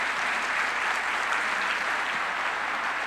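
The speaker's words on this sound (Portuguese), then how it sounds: "Por favor, uma salva de palmas para o Luiz Ernesto Lacuna." An audience at a conference forum breaks into sustained applause, a dense, steady wash of clapping heard up close at a constant level.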